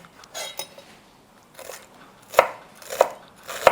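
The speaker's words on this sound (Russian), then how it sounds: "Мелко режем." A knife finely chopping fresh homegrown oregano on a board for Armenian khashlama cooked in a kazan; a few soft cuts followed by three sharp, distinct knocks of the blade, close and clear with no talking.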